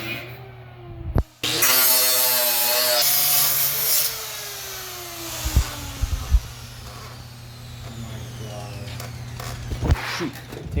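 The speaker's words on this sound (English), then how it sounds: "he's about to start grinding" Grinding on part of a Dell OptiPlex 3060 PC case, a loud close abrasive whine that rises and falls for several seconds, followed by scattered clatter and handling noises.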